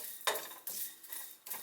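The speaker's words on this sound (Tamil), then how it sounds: "இது ஒரு 2 நிமிஷம் மிதமான சூட்டில் வறுத்துக்கோங்க" Fennel, cumin, pepper and coriander dry-roast in a pan over medium heat while being stirred, producing faint, soft scraping strokes at an uneven rhythm, with no talking.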